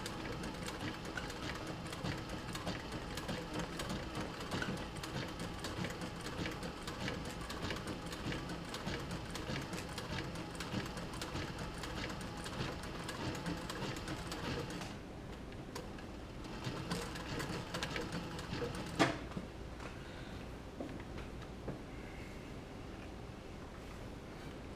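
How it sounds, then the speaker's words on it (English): A sewing machine back-stitching a leather camera bag, a quiet steady mechanical whirring at moderate distance that runs continuously before shifting and thinning toward the end, with a few soft knocks and no voices. "I'm going to go ahead and do my back stitch now"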